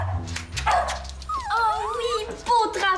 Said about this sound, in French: Ici mon chien!